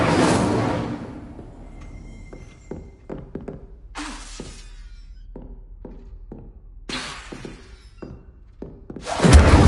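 An Incendio fire spell cast in Hogwarts Legacy: sharp bursts of fiery whoosh and crackle open and recur amid a string of dull thunks and clattering impacts, ending in a loud close flare.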